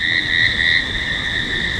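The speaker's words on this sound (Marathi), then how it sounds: "आणि फक्त साडेसहा वाजतात आणि रातकिड्यांचा आवाज आहे का" A steady, continuous high-pitched cricket trill rings without pause in the early evening near Malvali, Lonavala, over a faint low background hum, with no voices.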